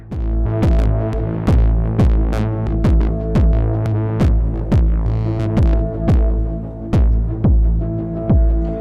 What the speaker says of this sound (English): I can layer that distorted kick up with the original.